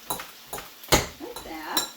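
A utensil clinks against a pot while boiled potatoes are broken up for mashing, making a few soft, spaced taps with a voice talking quietly in between.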